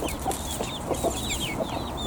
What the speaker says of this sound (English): 3 ducklings following around the mother duck